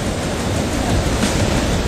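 Swollen floodwater surges at Chitrakoot in Chhattisgarh during heavy monsoon rains, making a loud, unbroken, broadband roar of rushing water close by.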